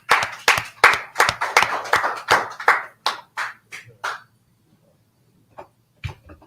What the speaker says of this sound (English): clap it up for the trooper